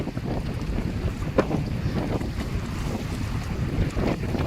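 Steady wind rushes over a fishing boat, with a low rumbling buffet against the microphone and faint water movement underneath; no voices.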